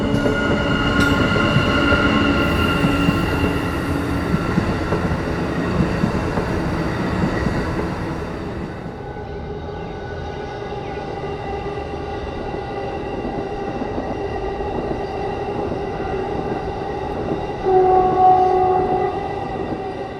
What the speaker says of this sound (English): catching Amtrak's new Acela Express performing a test run between Philadelphia and Lancaster